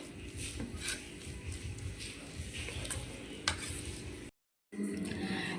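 Semolina beetroot idli batter stirred gently in a bowl: a soft, continuous rubbing and scraping swirl at close range with faint clinks, cut by a brief silent gap near the end.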